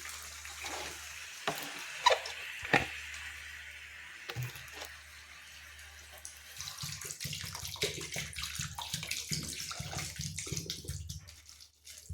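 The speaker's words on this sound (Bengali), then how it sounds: "এবার আমি জল দিয়ে দিচ্ছি" Water is poured into a pan of fried-down chicken on a gas stove, a steady gushing splash that settles into a continuous simmering sizzle with a few clanks of utensils.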